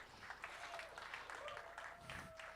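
An audience applauds at a live stage show, a dense wash of steady clapping with a faint voice over it.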